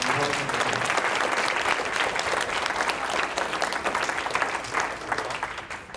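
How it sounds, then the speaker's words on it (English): Audience applause for NASA aerospace engineer Tom at a summer education event: steady, dense clapping from a sizeable crowd, fairly loud and sustained throughout with no talk over it. "please join me by giving Tom a warm round of applause"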